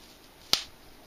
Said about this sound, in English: now you can really hear the capacitors driving down